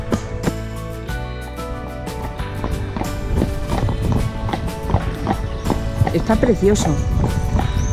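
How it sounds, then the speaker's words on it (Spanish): Horse-drawn carriage hooves clip-clop steadily on the streets of Seville in a brisk, even rhythm, close and clear beneath people talking throughout. "qué maravilla, amigos, ir en coche de caballos por Sevilla."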